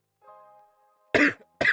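A person coughs twice in quick succession, sharp and close, after a brief faint tone, with allergies to blame.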